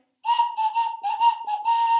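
A whistle, treated as a traditional musical instrument, is blown in a run of bright, steady tones broken into short blasts, ending in a longer sustained note. It is loud and close, with no other sounds.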